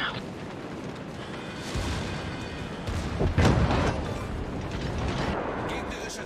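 Naval gunfire in the video game World of Warships: deep booming shots and rumbling impacts over mechanical game noise, with a heavy blast near the middle, while players talk.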